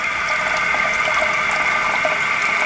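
A toilet fitted with a cleaner refill fluid dispenser flushes, with a steady close rush of running water hissing throughout.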